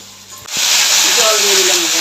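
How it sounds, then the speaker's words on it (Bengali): Water is poured into a hot pan of thin salted hilsa fish curry, letting out a sudden loud hiss that swells after a brief quiet moment and keeps roaring steadily. "জল দিয়ে দিলাম।"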